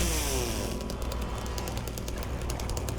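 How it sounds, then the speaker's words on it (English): A chainsaw in Silent Hill 2 (2024) revs steadily, its buzzing motor droning loud and continuous with a rough, rattling edge for a few seconds. "I love the chainsaw."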